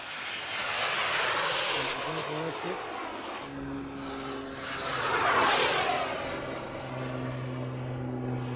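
A propeller-driven airplane makes a high-speed pass at roughly 150 miles an hour, its broad engine roar rising and falling as it sweeps by, with a steady drone underneath.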